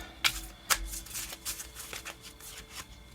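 Tarot cards are shuffled and drawn by hand, a run of crisp riffling snaps and soft slides at an irregular rhythm, close and clear, no talking.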